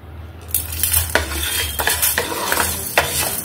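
Ingredients sizzling in a pan over a low flame while a metal spoon stirs and scrapes, with clinks and scrapes coming in quick irregular strokes, close and clear, no voices.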